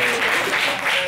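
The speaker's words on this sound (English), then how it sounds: "please give me a round of applause." Brief burst of applause from students in a math classroom, a dense, steady patter of clapping that stays close and fairly loud throughout.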